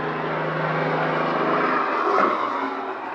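A steady, loud mechanical roar like a passing propeller aircraft or engine fills an outdoor back patio, droning evenly throughout with no voices.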